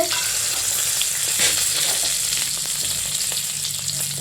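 Pieces of pointed gourd (potol) fry in oil in a pan for a potol curry, giving a steady, close hiss of sizzling with small crackles and faint scrapes as they are turned.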